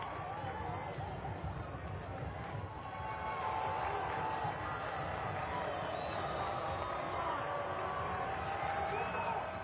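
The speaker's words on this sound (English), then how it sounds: "he wants the crowd to rise in volume" A soccer stadium crowd at a Carolina Core FC versus Chicago Fire FC II match roars after a penalty. The steady, distant wash of noise swells louder partway through and holds there.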